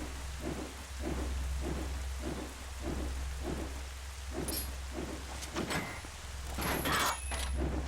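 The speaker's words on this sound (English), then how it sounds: "Just enjoy the dulcet sounds of rain" Steady rain and rumbling thunder in the Hyrule Castle area of the game Twilight Princess HD, a constant wash of rainfall with low thunder, joined midway by brief higher game effects, heard alone without talk or music.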